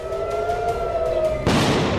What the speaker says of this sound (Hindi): तेल अवीव में गूंजे सायरन,